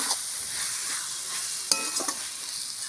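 Koraishak curry sizzling and frying in a pan after mustard oil is drizzled on top, a steady hiss with a few sharp clinks of stirring, fairly quiet and close.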